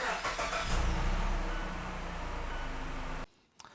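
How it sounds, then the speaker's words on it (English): A second-generation Mazda CX engine starts and idles steadily right after an oil change, a loud, close, continuous rumble running for about three seconds before cutting off abruptly. "With the oil fill cap in place, you want to start up your vehicle."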